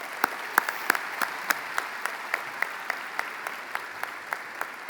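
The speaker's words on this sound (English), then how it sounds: "Can we give her a round of applause, please?" Sparse, evenly spaced claps ring out at a high school commencement ceremony, a thin and fairly quiet smattering of individual hand claps rather than a full roar, with no talk over them.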